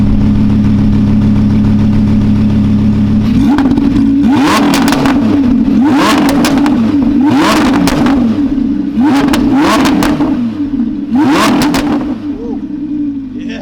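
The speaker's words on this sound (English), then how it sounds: "gonna set some revs here now" An Audi R8 RWS engine idles, then revs hard in repeated bursts, each rise followed by sharp crackling exhaust pops; loud and close.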